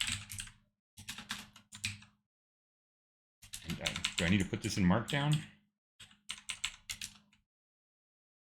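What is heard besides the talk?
typing a ChatGPT prompt on a computer keyboard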